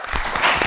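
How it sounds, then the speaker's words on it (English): A quiz show audience claps for the contestants, a brief dense burst of applause, steady and fairly loud. "Once again, clap for them."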